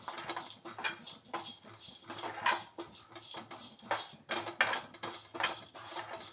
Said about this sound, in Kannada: ನಾನು ಎಣ್ಣೆ ಹಾಕ್ತಾ ಇಲ್ಲ, ಹಾಗೇ ಡ್ರೈ ಮಾಡ್ತಾ ಇದ್ದೇನೆ